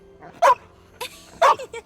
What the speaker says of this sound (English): Gosh, what a lovely dog.